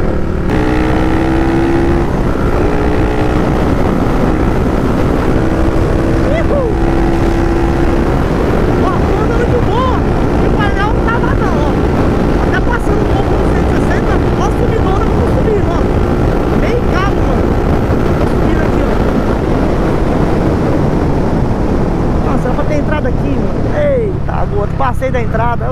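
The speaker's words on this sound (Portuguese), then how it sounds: "Moto aqui pronta pra acelerar" A Twister motorcycle fitted with a 79 mm big-bore kit roars at speed for a long stretch, engine droning loud and close amid heavy wind rush, with someone talking over it.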